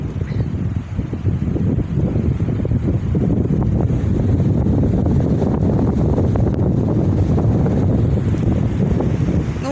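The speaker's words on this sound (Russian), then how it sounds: "Может быть, вообще звук будет не очень хороший, потому что сильный ветер" Strong storm wind buffeting the microphone outdoors among bending trees, a loud continuous low rumble with gusty surges throughout and no talking.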